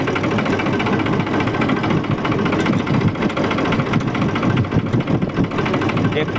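A tractor engine idles close by in a steady, loud, low rumble with a fast even pulse that runs unchanged throughout.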